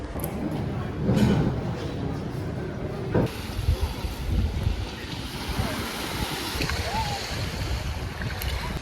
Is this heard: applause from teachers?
no